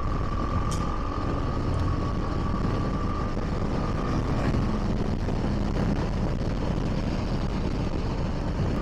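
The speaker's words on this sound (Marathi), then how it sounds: "नॅशनल हायवेवर बाईक चालवतोय." A motorcycle cruises along the NH60 national highway, with steady engine drone and heavy wind rush throughout, no pauses.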